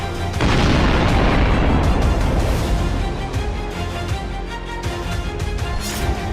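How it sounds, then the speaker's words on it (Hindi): A huge bomb detonates in the Atlantic Ocean, a loud sudden boom followed by a long, dense roaring rumble that slowly fades over several seconds. "एक धमाका, जमीन कांप उठी, समंदर थर्राया"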